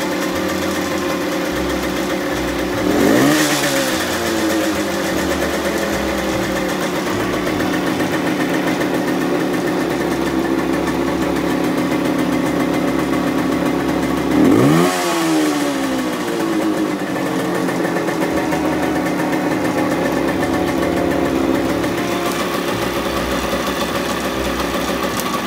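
A Suzuki T125 Wolf motorcycle engine idles at raised revs, a steady, close buzzing drone throughout, with two brief swells in the throttle sound.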